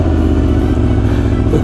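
Aprilia Tuono motorcycle engine running loud and close throughout a short stretch, a steady throbbing rumble with no pauses and no voices over it.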